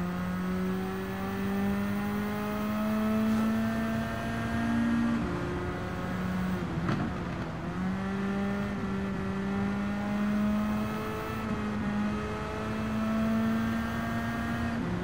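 A race car in Gran Turismo 7 drives on, its engine holding a steady whining drone with one brief dip and recovery midway, continuous and fairly loud with no voice over it.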